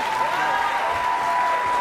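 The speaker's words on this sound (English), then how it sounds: "Give a round of applause for these people right here" Applause rises from the audience at a one-day business summit as people are called out for recognition, a moderate, steady patter of clapping with a faint tone running beneath it.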